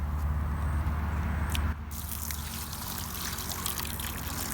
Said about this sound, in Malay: Air perlu dimasukkan secara perlahan sebab kita tak nak ganggu tembok tepi ni semua daripada hancur lah.